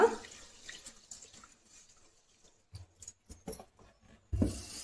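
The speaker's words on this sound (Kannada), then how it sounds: "ಸ್ವಲ್ಪ ನೀರು ಹಾಕೊಂಡು ಅಕ್ಕಿನ ಚೆನ್ನಾಗಿ ತೊಳ್ಕೊಳ್ಳೋಣ" Rice being rinsed in a little water in a pot, with faint sloshing and scattered splashes, a few louder swishes of water toward the end, close and quiet.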